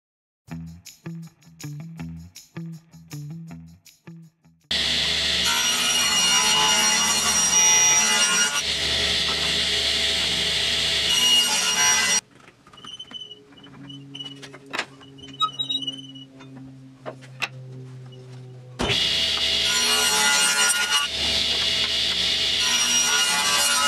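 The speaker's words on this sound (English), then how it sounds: "I'm now using my 45-degree miter sled," A power saw slices through wood on a 45-degree miter sled in a workshop, with two loud sustained cutting passes separated by quieter machine hum and clicks, close up.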